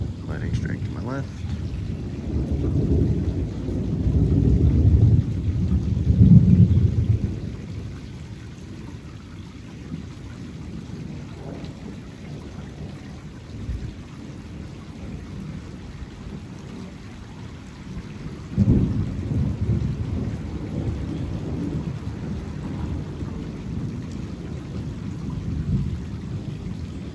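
During a severe thunderstorm with lightning strikes, loud thunder rumbles deeply over steady rain, with a strong roll early on and another swell later, and a voice talks at times.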